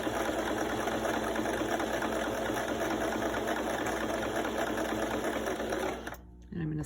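A sewing machine stitches a curved fabric seam at a 5/8 inch allowance in a steady, continuous close-up whir that runs almost the whole time, then stops abruptly near the end.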